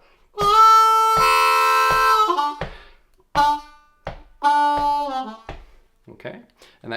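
Harmonica lick from a song, played on a G harmonica: sustained reedy chords and notes in short phrases with gaps, over a steady clicking count-in pulse, fading at the end.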